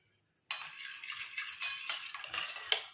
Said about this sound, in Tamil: பிழிஞ்சிட்டு இதை வந்து நல்லா கலந்து விட்டுடணும்